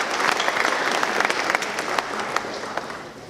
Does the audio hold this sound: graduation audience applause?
yes